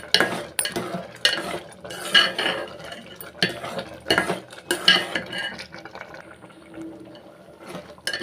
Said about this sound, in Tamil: கரண்டியை வச்சு கிண்டி விடணுங்க.